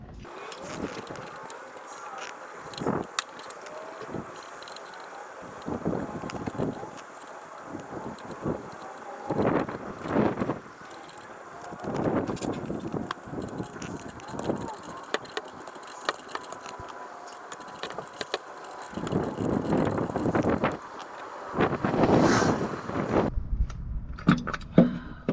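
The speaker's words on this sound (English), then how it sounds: "So I'm going to be using a puller" A puller working a stuck crankshaft pulley off a 1999 Toyota Camry engine: irregular close metallic clanks, taps and ratcheting scrapes over about twenty-five seconds, with someone talking intermittently between them.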